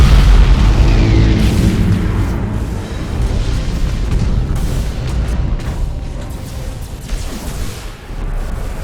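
A flagship explodes in the Battlefleet Gothic Armada 2 space battle, with a loud, deep, rumbling blast that rolls on as a continuous roar.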